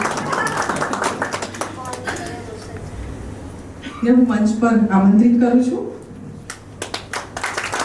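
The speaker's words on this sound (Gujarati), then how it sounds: "જોરદાર તાળીઓ" Audience clapping at a book launch event, scattered claps at the start and a burst of applause near the end, with someone speaking clearly into a microphone in between.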